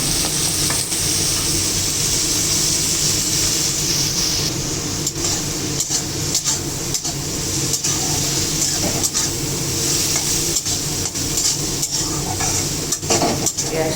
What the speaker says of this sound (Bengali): পেঁয়াজগুলি একটু লাল লাল করে এখন ভেজে নেব